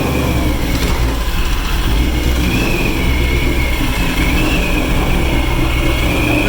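A ProCharged 2018 Ford Mustang runs after its first startup on a new tune, a loud, steady, rumbling engine drone close by with a faint supercharger whine riding above it.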